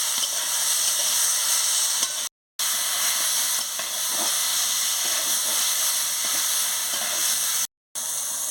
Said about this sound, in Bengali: ভালো করে টমাটোটাকে আমি কষিয়ে নিয়েছি